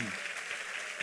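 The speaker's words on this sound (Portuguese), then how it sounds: "Então aplauda ele forte" A church congregation at a Sunday morning service claps loudly and continuously, a dense wash of applause heard from within the room.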